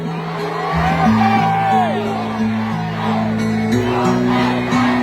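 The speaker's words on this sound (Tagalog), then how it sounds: "Ang sigaw ng Duterte! mga Davaoenos ay" A large political rally crowd in Davao, Philippines, shouts and chants "Duterte!" in loud unison, voices rising and falling together over several seconds with whoops mixed in.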